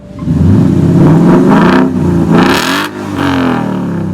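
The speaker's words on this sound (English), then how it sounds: "all I've really done is a muffler delete, so I'll let you hear that." A 2017 Ford Mustang GT V8 exhaust with a muffler delete revs up loudly several times, barking and roaring with a raw, unmuffled rasp, then settling between blips; close and powerful, no talking.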